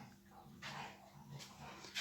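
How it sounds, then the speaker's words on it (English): Dogs on a bed giving soft whimpers and muffled yips, faint and fairly close in a quiet indoor room, with no clear speech. "Listen, can you hear those dogs?"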